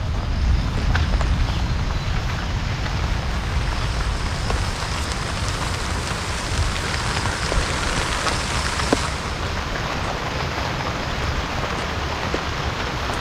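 Heavy rain pours steadily beside a river, a dense and unbroken hiss of drops on surfaces that stays loud and even for the whole stretch.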